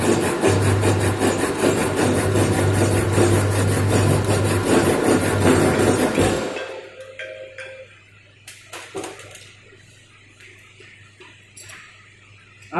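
A hand saw cuts wood for a dovetail joint in quick rhythmic strokes, a steady rasping for about six seconds, then stops, followed by faint scattered bench taps.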